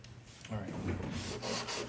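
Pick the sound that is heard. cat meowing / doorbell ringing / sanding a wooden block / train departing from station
sanding a wooden block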